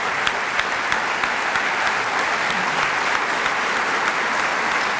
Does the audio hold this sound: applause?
yes